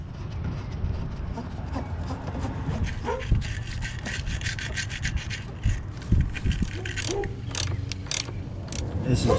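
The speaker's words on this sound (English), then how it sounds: "I'm going to clean this terminal off" A corroded, cruddy car battery terminal is scrubbed clean with steady, rhythmic scraping and rubbing, close and fairly loud, with occasional sharper knocks.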